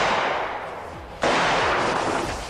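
A single gunshot fired at a body armor vest cracks out abruptly midway, followed by a loud, sustained wash of noise that lingers to the end.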